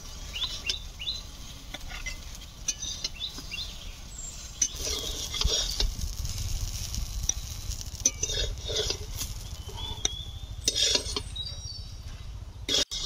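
Fried eggplant slices being lifted out of a pan, with a spatula scraping and clinking against the pan over a low background sizzle and a few sharp metallic taps.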